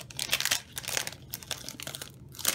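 Crinkly foil wrapper of a Pokemon Sun and Moon booster pack being torn and crumpled open by hand, close and fairly quiet, in quick irregular bursts of crackling.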